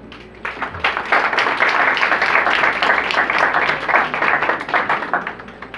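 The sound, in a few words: audience applauding sociologist Omar Gara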